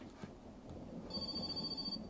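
Telephone ringing in the video game My Summer Car, a steady electronic ring entering about halfway through and continuing to the end, moderately loud over low rumbling ambient game noise.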